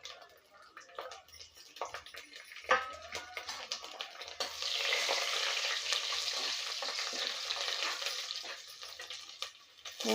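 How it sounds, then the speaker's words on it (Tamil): Garlic cloves frying in oil with cumin and dried chilies, sporadic crackles and utensil taps at first, then a steadier sizzle swells midway and continues near and fairly quiet. "பூண்டு நல்லா வதங்கிடுச்சு."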